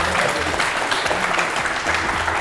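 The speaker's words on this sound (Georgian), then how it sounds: "აპლოდისმენტები კიდევ ერთხელ ქართულ-ამერიკული უმაღლესი სკოლას." A school audience applauds the team from Tbilisi's Georgian-American High School at a televised book quiz contest. The clapping is dense and steady, fills the whole moment and is heard without speech.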